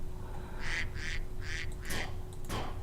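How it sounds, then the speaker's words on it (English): Several nasal duck quacks from a video game sound in quick succession, then a couple more after a brief pause, over a faint steady hum. "There they go, quacking for us"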